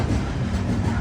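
A passenger train pulls into Jodhpur Junction station after a 618 km run from Delhi, with a steady low rumble and rolling wheel noise heard from aboard, close and continuous with no clear voices.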